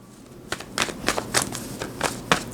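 A deck of tarot cards is shuffled in quick bursts of crisp, riffling slaps, about six distinct shuffles heard up close over a quiet room background.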